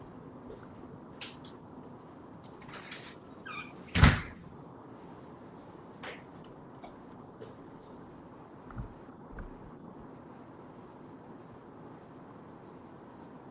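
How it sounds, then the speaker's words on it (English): A door beside the speaker is pushed shut during a thunderstorm, giving one sharp, loud thud close by, followed by a few faint knocks and creaks against a quiet room. "Hold on, I have to shut the door that I'm beside"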